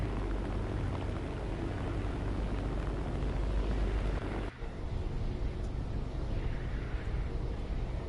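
Bomber aircraft droning overhead in War Thunder, a steady, dense engine roar that fills the whole stretch with a brief dip midway, no talk over it.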